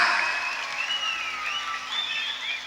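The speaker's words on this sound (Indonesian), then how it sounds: "Tepuk tangan." An outdoor crowd at a jaran kepang folk horse-dance show on a field claps steadily, with whistling tones and faint voices rising over the continuous applause.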